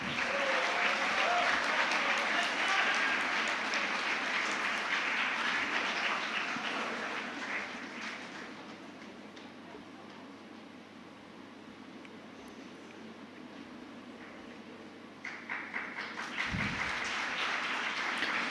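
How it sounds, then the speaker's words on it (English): An audience at a school Model UN valedictory function applauds the award winners in a long, dense burst of clapping that thins to a quieter patter midway, then swells again near the end. "Congratulations to all the winners, and can we get a big round of applause for them?"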